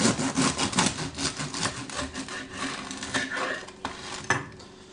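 A knife saws through a crusty loaf of artisan bread, a dense run of rough, scratchy strokes close by, tailing off near the end, with no talk.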